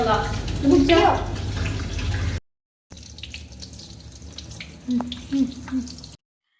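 Chicken pieces are rinsed under a running kitchen tap in a home kitchen, with water splashing steadily, briefly cutting out, then returning with a few louder gushes.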